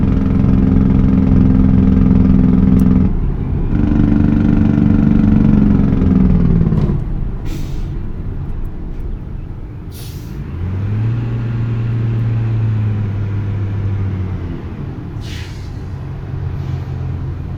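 A heavy truck engine in American Truck Simulator idles and revs through gear changes, with the drone dropping and rising as it downshifts, loud and close throughout with no talk.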